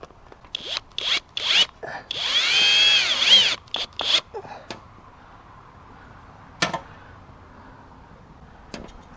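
A power drill drives screws into replacement wood trim in close bursts, the longest a few seconds of whining spin, followed by quieter handling noises and brief taps.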